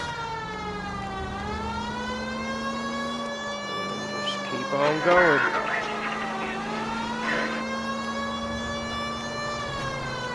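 A police car siren in the video game L.A. Noire wails steadily in long rising and falling sweeps, loud and close, with a brief spoken line partway through.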